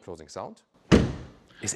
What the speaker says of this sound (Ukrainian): А ось звук зачинення дверей надзвичайно солідний.